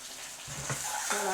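Tomato puree sizzling in a pan with caramelised onions and peppers, a steady soft frying hiss with faint stirring scrapes, fairly quiet and close.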